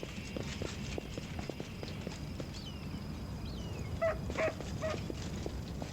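A dog in the fantasy role-playing video game Pathfinder: Wrath of the Righteous, heard as soft footsteps and a few short whimpering or yelping sounds over a steady low game background, fairly faint and without speech.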